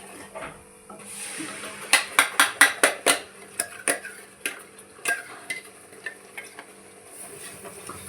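Pav bhaji masala is sautéed in a pan, with quick metal spoon scrapes and clinks against the cookware over a faint sizzle, clustered in a busy burst before settling into sparser stirring.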